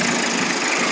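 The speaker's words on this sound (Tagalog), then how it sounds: "tahimik ang makina niyan" A 29-year-old Toyota Tamaraw FX in excellent running condition idles with a steady, broadband engine hum, close and continuous, with no voices.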